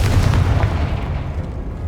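The Confringo explosive spell in Hogwarts Legacy goes off as a loud, close, deep boom with a rumbling blast that decays over about two seconds, heard alone.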